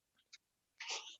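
A single sneeze bursts out after a couple of faint intake breaths during an indoor workshop session, quiet and close, with no talking around it.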